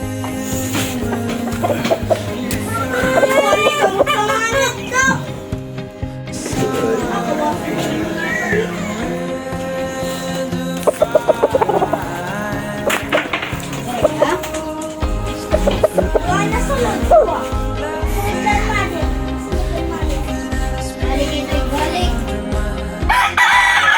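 Fighting roosters crow loudly again and again while chickens cluck and fuss nearby, with people talking in the background throughout.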